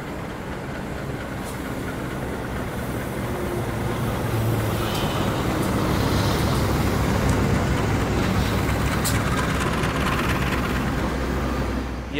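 The Batavia passenger train, bound from Solo Balapan to Gambir, rolls into platform 2 of an Indonesian station with a steady, moderately loud rumble of wheels and carriages that swells midway, with no talk.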